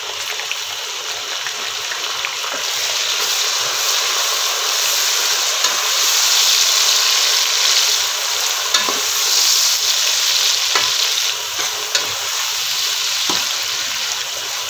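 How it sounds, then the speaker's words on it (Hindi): Finely chopped large tomatoes frying in a pan for keema matar, stirred continuously: a loud, steady close sizzle with occasional scraping strokes and small clicks throughout. "टमाटरों को भी अच्छे से हमने भून लेना है।"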